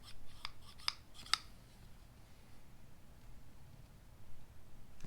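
Electrician snips cut in a few quick, crisp snaps close by, followed by quiet handling.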